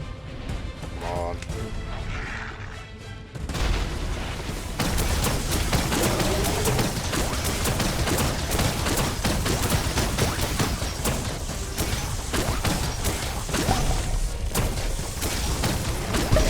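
Rapid, dense bursts of gunfire from a new gun in Biomutant ring out loud and close, with heavy impacts and booms layered over a steady game soundtrack after a short quieter opening.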